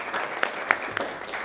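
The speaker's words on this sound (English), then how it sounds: "I think we'll give you at least a little bit of an applause." Brief light applause at a city board meeting, a few scattered claps from a small group in a quiet room.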